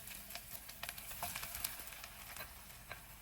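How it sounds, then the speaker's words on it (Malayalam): Chopped onion sautés in butter with cumin for street-style pav bhaji, a faint, soft sizzle with light crackles and pops spread across the pan. "ചെറുതായിട്ട് കട്ട് ചെയ്ത് വെച്ച സവാളയും കൂടെ ചേർത്ത് നന്നായിട്ട് വഴറ്റിയെടുക്കും"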